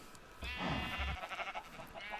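Sheep bleating in the Minecraft video game: one loud, wavering bleat near the start, then a shorter fainter bleat trailing off, with no talk over it.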